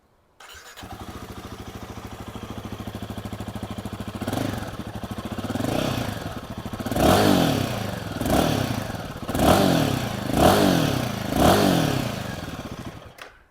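A 2024 Royal Enfield Himalayan with a liquid-cooled engine cranks and starts, settles into a steady idle, then gets five or six sharp revs in a row, loud and close, with no talking.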